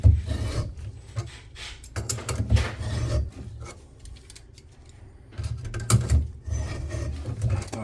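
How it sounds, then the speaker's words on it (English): Rough grinding and rasping while gunk is ground out during a repair job, coming in close, loud bursts with a quieter stretch in the middle and no talk. "It's just grinding that gunk out of there."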